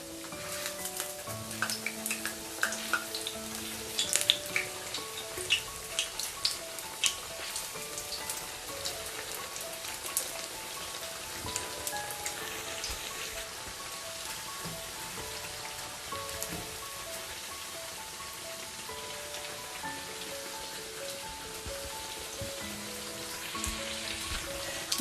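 Canned tuna fritters frying in hot oil, a continuous crackling sizzle with dense popping bubbles, fairly close and steady, with a few louder spatters early on and no voices.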